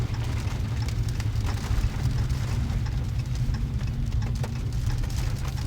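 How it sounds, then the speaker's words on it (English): Rain falls on a car lot where a 2018 Jeep Trackhawk is parked, producing a dense, even hiss that runs unbroken and fairly loud throughout, with no one speaking. "But you can always sit back and enjoy the rain."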